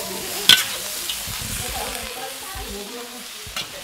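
Garlic and noodles sauté in a pan in Réunion Creole style, a low steady sizzle with a couple of sharp utensil knocks near the start and end, heard up close with faint background noise.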